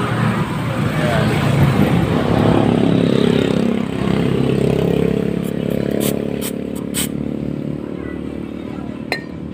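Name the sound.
Mio i 125 scooter engine running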